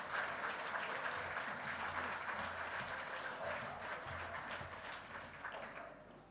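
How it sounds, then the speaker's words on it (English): At a company AGM, a standing audience gives sustained applause for the founder, with steady clapping from a large crowd at moderate volume, gently tapering near the end. "Can everyone stand and give him a sound of applause?"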